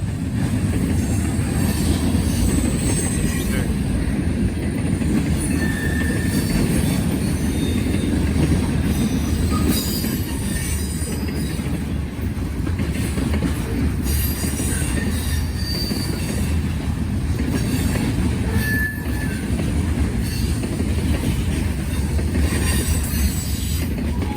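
A freight train passes close by in Muncie with a steady heavy rumble for the whole stretch, while high, shrill wheel squeals rise and fade over it. No one speaks.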